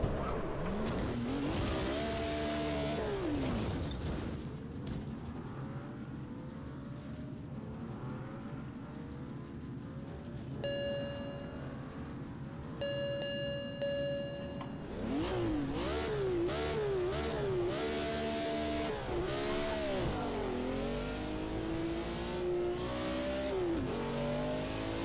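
A race car in Project Cars 2 revs hard with its engine note sweeping up and down through shifts, drops gears under braking into corners, and accelerates out again, loud and continuous throughout.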